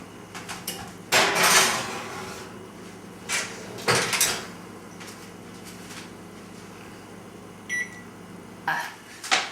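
A dish goes into a kitchen oven with a few distinct clunks and bangs of the door and racks, separated by quiet pauses, plus a short beep near the end.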